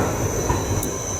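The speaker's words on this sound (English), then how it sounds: "I thought this was going to be the train I was getting on" A train rolling past on rails during a rainy outdoor practice session, a steady loud rumble of wheels with a sustained high squeal running through the whole brief moment.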